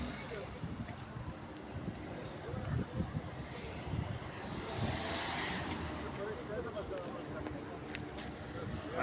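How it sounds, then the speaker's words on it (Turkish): Gusty wind during a forest fire in Antalya buffets the microphone in a continuous roar, rising and falling, with a faint voice briefly underneath. "Rüzgar da var şu anda."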